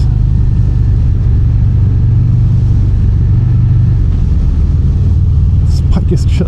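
A 2025 Harley-Davidson Fat Boy motorcycle engine gives a loud, close, deep rumble that holds steady for the whole stretch, with a faint bit of higher noise near the end.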